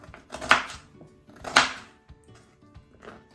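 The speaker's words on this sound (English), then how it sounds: "So just chop that as thinly as you can." Vegetables chopped thinly with a knife on a board, two distinct crisp cuts about a second apart followed by faint small knocks.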